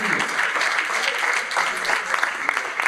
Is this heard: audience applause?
yes